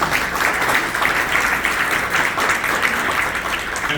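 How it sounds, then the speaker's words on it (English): A corporate forum audience gives a round of applause, steady dense clapping filling the room at even loudness throughout, with no voices over it. "Round of applause for them."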